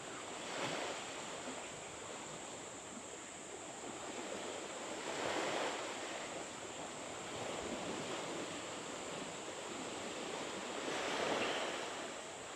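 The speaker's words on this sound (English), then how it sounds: "The ocean over there to my right." Ocean waves at Flying Fish Point near Innisfail at high tide, a steady wash of surf with slow swells building and easing every few seconds, mixed with some wind noise.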